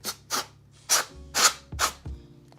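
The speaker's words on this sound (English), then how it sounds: "Dust right here, keyboard duster." Compressed air keyboard duster spraying into a camera battery compartment, five short loud hissing bursts in quick succession, close up with no talking.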